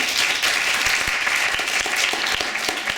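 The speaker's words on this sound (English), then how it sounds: "Can we get another round of applause from him?" Steady applause from a college audience at a student comedy show, dense and continuous throughout with no talk over it.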